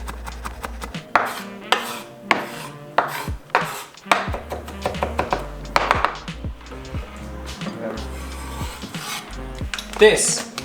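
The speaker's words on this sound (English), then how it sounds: "We're kind of just mincing the garlic. I'm going to chop it up this way." A knife chops and minces garlic on a cutting board, striking it in sharp, irregular taps with short pauses, close to the microphone, while low kitchen sounds and brief talking go on around it.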